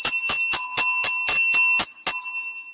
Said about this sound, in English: Ringing bells for you, Olga.